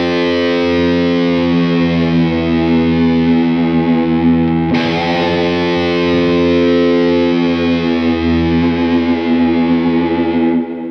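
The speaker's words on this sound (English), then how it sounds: "staying with the tremless guitar in the form of this Explorer Bird, we have behind the nut bends" A distorted electric guitar on a tremolo-less Explorer Bird holds one loud sustained chord, bent behind the nut so the pitch wavers, with a sudden sharp shift near the middle. The chord rings alone with a dark, ominous tone.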